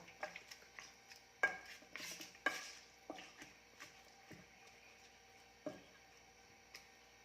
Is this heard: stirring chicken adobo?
yes